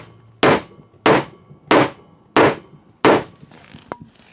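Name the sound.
hammering a wooden part of a bookshelf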